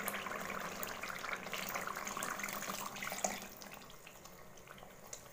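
About one and a half cups of water pour into a masala rohu fish curry gravy, a steady splashing, trickling stream that rushes loudly at first and then thins to quieter dribbles near the end.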